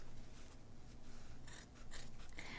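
Small scissors snip through fabric while finishing a tiered heart ornament, close crisp cutting strokes with soft rustling between them, no voices.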